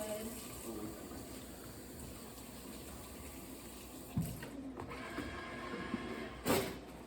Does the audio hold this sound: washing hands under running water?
yes